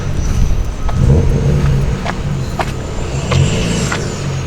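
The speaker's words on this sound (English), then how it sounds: "Here, I'll give you guys an audio of the exhaust." The exhaust of a BMW E36 burbles at a steady idle with a couple of light blips, close and fairly loud, with no talking.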